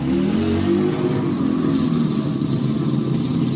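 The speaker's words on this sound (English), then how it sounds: "The postal scooter shot out of the workshop door" Postal scooter engine revving hard as it bursts out of a workshop door, a loud, steady motor drone holding for several seconds with no pause.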